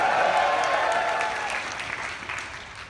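An audience applauds and cheers for Robert F. Kennedy, a dense wash of clapping with whoops that starts loud and gradually tapers off over a few seconds.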